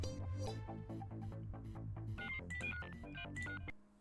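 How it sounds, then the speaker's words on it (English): Phone alarm playing a quiet melodic ringtone, a run of bright repeated notes climbing in pitch over several seconds before cutting off abruptly. "Sorry, that was my alarm."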